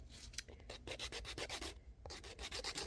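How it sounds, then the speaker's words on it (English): Emery board rubbed back and forth across a resin coaster, a quick run of close, steady scratchy sanding strokes repeating in an even rhythm with a brief pause near the middle. "buy an emery board like for your fingernails, and then you can sand"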